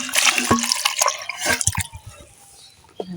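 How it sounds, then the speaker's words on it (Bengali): Raw green mangoes rinsed in water in a kitchen, with splashing and dripping at close range, a few louder bursts of water handling early on, then quieter trickles. "এবার আমগুলো ধুয়ে নেবে"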